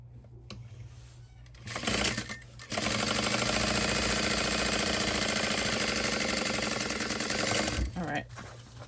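Sewing machine runs a steady seam along the side of a Lucy Mini tote bag, a close, loud continuous whirring stitch lasting several seconds after a short start and ending in a brief stop.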